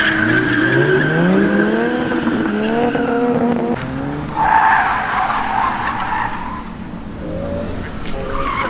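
Cars drifting at a car meet, with loud, sustained tire squeal and revving engines sweeping up and down in pitch over several seconds, up close, with a brief burst of louder skidding midway.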